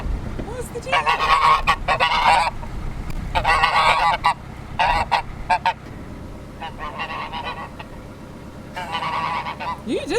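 Geese honk loudly in repeated bursts near a narrowboat, several birds calling over one another with short pauses between the noisy volleys.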